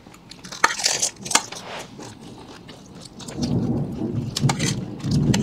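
Rain falls steadily at a street food outing while thunder rolls and cracks in sharp bursts. The rain grows into a heavier wash toward the end.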